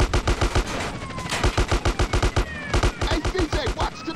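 Heavy gunfire in GTA San Andreas during a gang shootout, a steady rapid barrage of close shots with overlapping bursts and ricochet-like whistles, loud and continuous.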